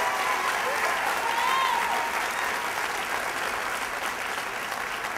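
Steady, dense audience applause at a political rally endorsing Senator Obama, a broad wash of clapping that holds at even loudness throughout with faint crowd murmur beneath.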